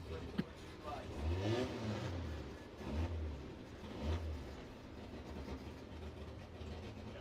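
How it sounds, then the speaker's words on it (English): A fuel-burning race car engine idles and blips at an El Mirage dry-lake speed meet, deep throbbing revs rising and falling in several surges, moderately distant beneath faint background noise. "Engine's running. Sounds a little fat. Definitely a fuel burning engine."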